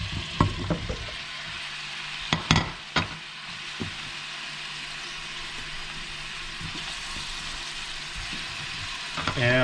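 Bell peppers frying in a pan for Hungarian-style letscho give a steady close sizzle, with a few sharp clatters of a utensil near the start and again at the end.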